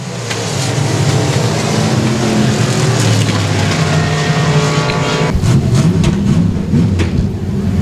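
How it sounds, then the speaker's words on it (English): Race car coming off turn four on a dirt speedway, a loud, sustained engine roar that stays close throughout, with no talk. "Coming off of turn number 4, here comes your winner, Edwards in car number D3"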